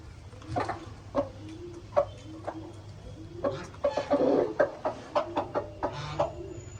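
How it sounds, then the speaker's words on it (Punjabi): Chickens cluck in short repeated bursts close by, joined by a few scattered bird calls over a low steady hum. "ਇਹ ਬੁਲਾਉਂਦਾ ਮੁਰਗੀਆਂ ਨੂੰ ਕੁੜਕੁੜ ਕਰਕੇ"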